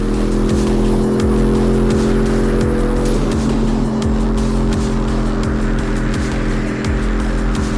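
In a VR street racing game, car engines roar continuously in a steady, loud drone, with repeated swooshes of other cars being passed at a regular pace.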